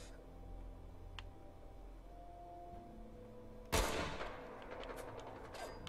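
A single sharp gunshot-like burst from Fallout 4 gunfire cracks suddenly midway, loud against a quiet low hum, with a decaying ringing tail afterward.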